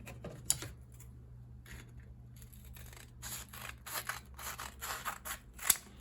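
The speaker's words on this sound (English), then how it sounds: "So let's go ahead and cut these in half." Scissors snip through sanding sheets, 180 and 220 grit, cutting them in half. The cuts come as a quiet series of short crisp snips, denser toward the end, over a low steady hum, with one sharper click near the close.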